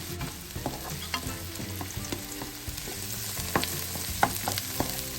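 Onions and garlic frying in oil in a home kitchen, a continuous close sizzle broken by regular stirring clatter and scraping of the spatula in the pan, with no voices.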